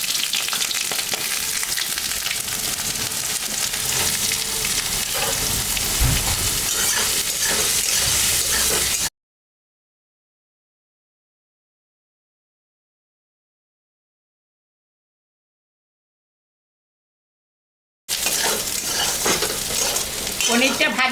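Soybean chunks fry in mustard oil in a wok with a loud, continuous sizzle and hiss, close up, broken by a stretch of complete silence before the frying resumes.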